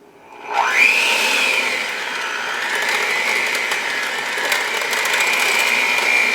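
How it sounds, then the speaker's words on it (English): An electric hand mixer whirs up and then runs steadily and loudly through chocolate cake batter with cinnamon, a sustained high motor whine with no talk. "We'll grab our mixer and we'll mix this in."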